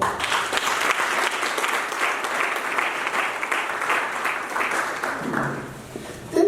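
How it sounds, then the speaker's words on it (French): Sustained, dense clapping from an audience at a professional development masterclass, loud and even throughout before thinning slightly near the end, with no speech over it. "Il mérite une acclamation."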